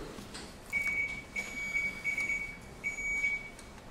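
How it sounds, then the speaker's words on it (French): A thin, high electronic beep sounds in several short bursts, starting and stopping irregularly against quiet room noise. "Donc, on va faire le test des buzzers."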